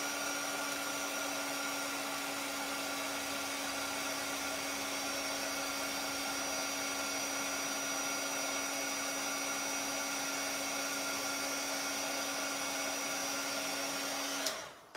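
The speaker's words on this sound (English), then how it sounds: "Hit that with a heat tool." A heat gun used for embossing a card runs steadily for about fourteen seconds, a constant close whirring fan hiss with a fixed motor whine, then cuts off abruptly at the end.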